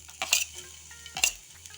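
Chopped green chili dropped into hot oil already holding cumin seeds and a pinch of asafoetida, giving two short sizzling bursts with a clink of a spoon against the pan, close and fairly quiet, then a low hiss between them.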